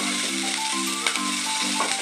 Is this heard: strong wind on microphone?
no